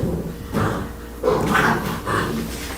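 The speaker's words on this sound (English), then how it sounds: "They sound like 2 big old dogs in there." Puppies barking with deep, gruff voices like big dogs, in several loud, rough bursts spaced about a second apart and heard from nearby without talk.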